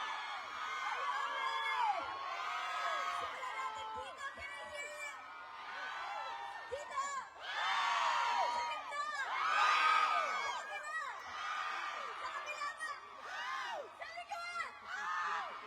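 A concert crowd screams and cheers in surging waves, shrill whoops and children's shouts rising and falling loudly close by, with voices mixed through the din.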